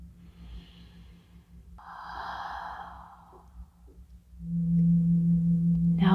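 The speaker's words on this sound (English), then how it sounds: "One more big inhale." During a guided meditation, someone takes a slow, audible breath: a soft inhale and then a long, breathy sigh out, heard close and on its own, followed by a low steady hum.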